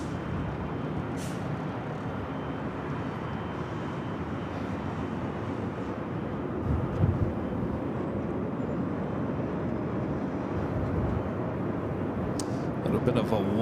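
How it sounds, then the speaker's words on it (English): An Air Premia airliner landing on runway 24 right at LAX, heard as a steady broad rumble of engines and rollout that swells slightly toward the end, with voices talking over it. "A little bit of a wobbly landing there with Air Premia"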